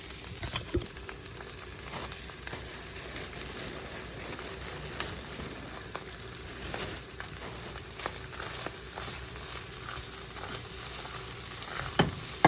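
Cabbage frying in a stainless steel pan, sizzling steadily throughout with scattered scraping and clinking as it is stirred, moderately quiet and close.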